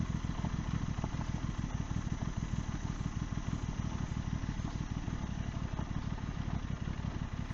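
An Aprilia RS660 motorcycle descends a rough, mixed-terrain mountain road in Thailand, its engine a loud, steady, throbbing drone with a continuous pulsing beat throughout.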